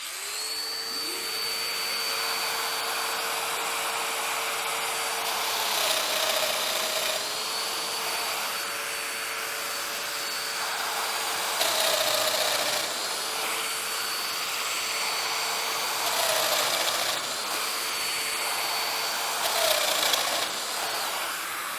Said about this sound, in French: Je fraise ma mortaise à une distance de 13 cm du bord.